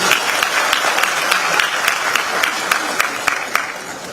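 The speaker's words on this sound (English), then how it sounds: "Please, a round of applause for him." Steady audience applause fills a hall at a medical doctors' swearing-in and induction ceremony, dense sustained clapping from a large crowd with sharper individual claps poking through, continuing evenly throughout.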